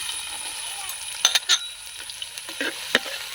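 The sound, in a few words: chopped onion frying in hot coconut oil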